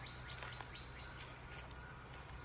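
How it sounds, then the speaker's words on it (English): Faint birds chirping and singing in the distance along a country trail over a steady low hum, short repeated tweets scattered throughout. "You hear the birds singing."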